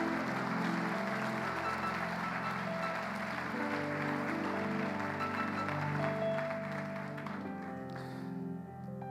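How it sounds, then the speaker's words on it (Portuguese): A church congregation applauds steadily at an Easter service, a dense, continuous wash of clapping that runs throughout, with sustained musical tones underneath and a slight fade at the end. "Você pode aplaudir o céu."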